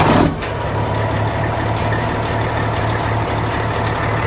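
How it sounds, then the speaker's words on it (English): A Ford diesel truck fitted with a new Industrial Injection 467 billet-wheel turbo idles loudly and steadily on its first start-up, a constant close engine rumble with a faint high whine above it. "first start up on our new industrial injection 467 Ford's mill wheel turbo"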